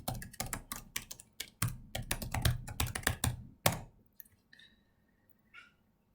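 Rapid keystrokes clatter on a computer keyboard as administrator credentials are entered on a Windows 10 machine, a close, brisk burst of clicks for about four seconds ending in a firmer key press, then near silence with a couple of faint taps.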